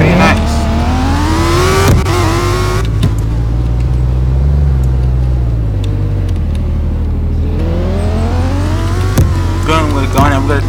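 A Mercedes CLA250 with a five-speed gearbox driving on the road, its engine droning and climbing through revs with gear changes, loud and close from inside the car, with a voice talking over it.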